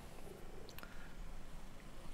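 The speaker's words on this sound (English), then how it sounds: "You're an old kitty, though." An old cat purrs close up, a steady low rumbling drone throughout with a couple of faint clicks.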